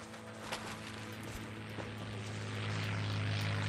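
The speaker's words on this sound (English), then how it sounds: "I'm hearing like a helicopter or something." Helicopter flying in the video game Far Cry 6, a steady whirring drone that swells slightly louder toward the end, with no talk over it.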